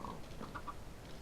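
Minecraft chickens in a farm pen give a few short, soft clucks in quick succession, heard faintly over low background noise.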